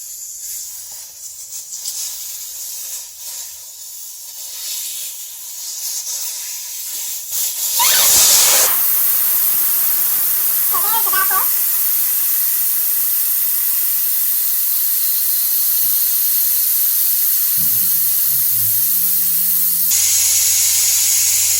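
Air hisses out of a tire valve as the valve core is unscrewed, starting as a quieter hiss and then bursting into a loud, steady rush of escaping air that continues close by, with faint clunks near the end.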